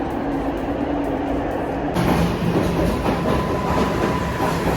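Steady, loud rumble of a subway train in motion in Canada, heard from inside a car, growing brighter and louder partway through.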